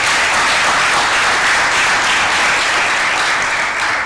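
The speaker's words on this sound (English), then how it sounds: "Probably a loud round of applause would do." A loud, sustained round of applause from a symposium audience on technology and security, with dense, continuous clapping filling the room at an even level.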